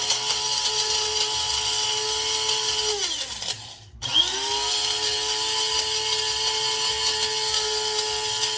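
A kitchen grinder or food processor whirs steadily while chopping jalapeño for a cheese boule, loud and continuous, then spins down and briefly stops near the middle before revving back up to a sustained whine.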